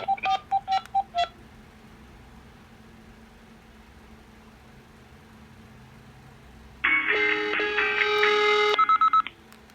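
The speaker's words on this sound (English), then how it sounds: "I'm going to dial myself." Keypad tones of an IP phone on a PBX system: a quick run of short beeps at the start, a quiet pause, then a loud warbling multi-tone burst that ends in a few more short beeps.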